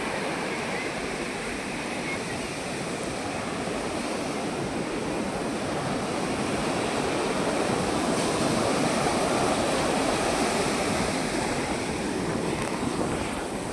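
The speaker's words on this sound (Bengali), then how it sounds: "অ্যান্ড ঢেউগুলো আছে।" Sea waves surge onto a beach in Chennai as a constant, loud roar of surf with wind rushing across the microphone, and no talk is heard.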